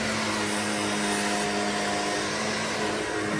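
A Shark vacuum cleaner runs continuously inside a one-bedroom holiday lodge, giving a loud, steady motor whine with a constant droning hum and no voices.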